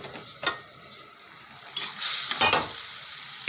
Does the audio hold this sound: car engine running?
no